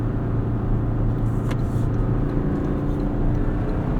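A 2024 Toyota Tacoma with a 6-speed manual cruises along with a steady low engine and road rumble heard from inside the cab, even and continuous, with one brief faint click partway through.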